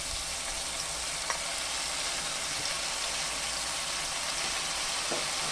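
Sardines frying in a pan with garlic, onion and tomato give a soft, even sizzle that runs steadily throughout at moderate level, with a few faint clinks and no talking.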